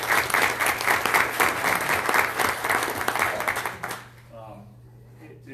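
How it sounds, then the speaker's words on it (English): Applause at a chapter meeting of a public-safety communications group rings out as loud, steady clapping from a room of attendees over a low hum, then cuts off sharply and a voice begins speaking. "This is a huge, just round of applause, please."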